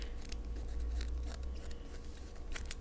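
Protective film being peeled off a trading card from a 2000 Fleer Mystique baseball box, a close, dry crackling and tearing rustle that runs steadily for a few seconds over a low room hum.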